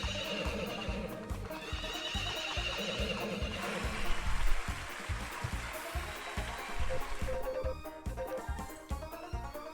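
Horses neigh and whinny amid steady clip-clop hoofbeats during a horse race in the farming video game Story of Seasons: Friends of Mineral Town, with music and crowd-like bustle throughout.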